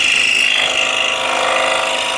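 A scroll saw cuts animal shapes from wood with a worn blade, giving a loud, close, continuous buzzing rasp with a fast reciprocating chatter throughout.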